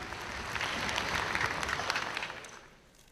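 Audience applause at a national ulema convention greeting Prime Minister Shehbaz Sharif, a dense wash of clapping that holds steady for a couple of seconds and then fades away.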